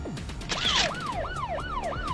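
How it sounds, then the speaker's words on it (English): An off-road ambulance siren wails in a rapid, repeating rise-and-fall pattern, loud and close, with a brief burst of harsh noise near the start. "This is an off-road ambulance."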